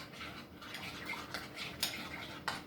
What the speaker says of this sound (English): I'm going to just stir that up